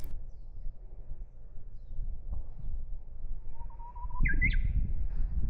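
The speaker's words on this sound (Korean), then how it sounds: "이건 또 다른 새인 것 같은데." A few short, bright bird chirps rise over a low, steady outdoor rumble on Jeju Olle Trail Route 14, Korea, fairly close and brief, with no one speaking.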